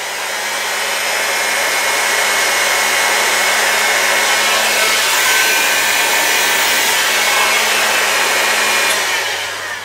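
A heat gun blows a steady, loud stream of hot air onto heat shrink tubing for a Yaesu FT-1500M radio power lead, holding an even whooshing roar for about ten seconds with no talking.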